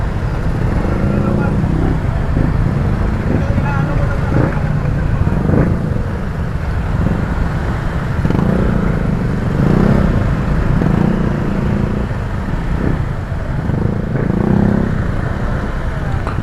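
Motorcycles sit idling in stalled traffic on a flooded road in Bacoor and Las Piñas, a steady low engine drone with occasional throttle blips and voices talking over it.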